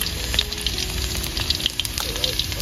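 Fish frying in a large pan on an outdoor survival cookstove, a faint steady sizzle with scattered small pops and crackles heard up close.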